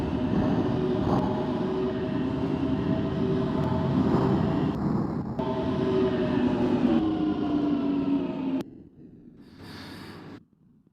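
Loud continuous rumble and rattle of a Jubilee Line subway train in the OpenBVE train simulator running along the track, steady for several seconds before dropping away to a quieter hiss.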